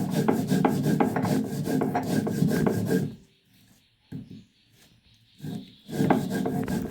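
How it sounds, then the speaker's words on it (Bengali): Soaked Gobindobhog rice is ground coarsely on a stone grinding slab, making rhythmic scraping and rubbing strokes up close, broken by pauses with a few short scrapes before the grinding picks up again. "গোবিন্দভোগ চাল ভিজিয়ে নিয়েছিলাম, সেটা শিলে সুন্দর করে বেটে নেব"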